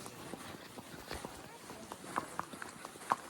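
Horse walking on a trail in Pahalgam, Kashmir, with soft, irregular hoof thuds and a few sharper clicks over low background noise while people talk nearby.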